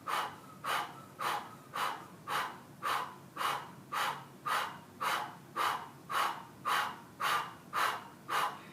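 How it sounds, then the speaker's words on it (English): Rapid Breath of Fire breathing through pursed lips: quick, even, forceful puffs of air at about two per second, steady and close with no speech. "Inhale and exhale at a rapid pace."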